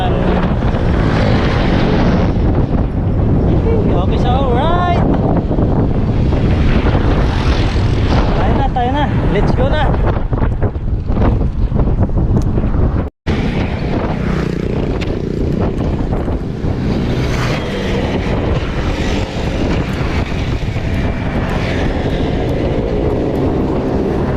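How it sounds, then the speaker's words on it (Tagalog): Strong wind roars steadily across the microphone during a ride along C6 Road from Taguig to Taytay, Philippines, with a brief dropout midway and faint voices beneath the rumble. "mahangin mahangin pala rito ayan"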